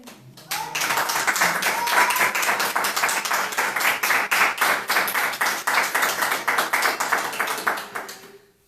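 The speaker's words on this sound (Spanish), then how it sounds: "Un fuerte aplauso a nuestro Señor Jesucristo." A church congregation breaks into strong applause, bursting in abruptly and settling into fairly rhythmic, loud collective clapping that carries on steadily for several seconds before cutting off.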